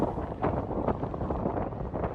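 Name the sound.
strong wind on a mountain road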